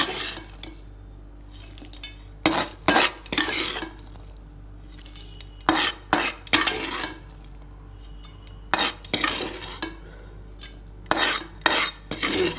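Red-fried Nepali spiced chicken choila is scraped from a metal pan into a dish with a utensil: bursts of sharp metallic clinks and scrapes, close by and irregular, separated by short quiet gaps.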